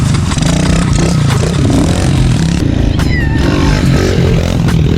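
Gas-powered dirt bike engines rev loudly and continuously up close on a wooded trail, a steady throaty drone with clattering and scraping from the ride.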